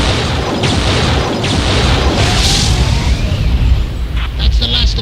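Gun turrets blown apart in a science-fiction battle, a dense roar of booming explosions and blasts filling the scene with crackling bursts, loud and continuous, with voices calling out beneath.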